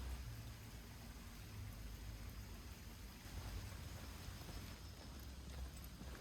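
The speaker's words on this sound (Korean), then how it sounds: "비가 운치 있을 만큼 보슬보슬 내리는데" Light drizzle falls at Gilsangsa temple in Seoul as a faint, steady, soft patter over a low background hum, with no talking.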